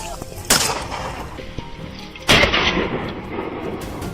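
Two loud gunshots ring out during a wild boar hunt, the first early and the second about two seconds later, each sharp crack trailing into a long rumbling echo over outdoor ambience.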